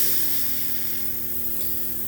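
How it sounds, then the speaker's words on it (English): Paint gets a quick test spray, giving a soft, steady hiss of airflow that stays constant throughout, fairly quiet and close, with no voices. "Let's do our test spray real quick."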